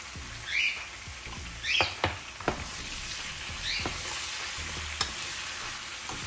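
A potato and eggplant bhaji seasoned with salt fries in a pan, its constant sizzle interrupted by several scraping stirs and a couple of utensil taps.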